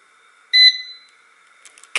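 A single short electronic beep from an air fryer being switched off, a bright tone that fades quickly under a faint steady hum, followed by a couple of light clicks.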